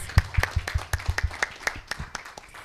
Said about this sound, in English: Can we have a round of applause for all our partners, please?